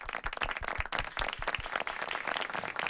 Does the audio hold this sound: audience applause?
yes